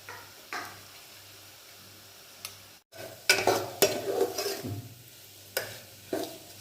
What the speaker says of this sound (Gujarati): એમાં ચટણી નાખી, હળદર, મીઠું, ચપટી ખાંડ ને બધી નાખીને વઘારાઈ ગઈ.